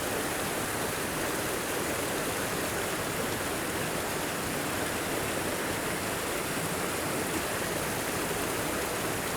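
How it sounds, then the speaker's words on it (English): A mountain stream pours over cascades in California's High Sierra. The rushing water makes a constant, dense hiss and roar that fills the whole clip at an even level, with no voices or other sounds. "And this stream connects to more lakes up top"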